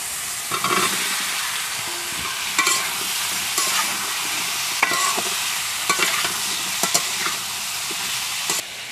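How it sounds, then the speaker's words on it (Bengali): Potato and pointed gourd are stirred into spiced masala in a pan for a village-style egg curry, with a steady sizzle and frying hiss throughout, punctuated by periodic scraping and clinking of the spoon against the pan. "সব মশলাগুলো ভালো করে কষে নিয়েছি, এবারে আলু আর পটলটা দিয়ে দিচ্ছি।"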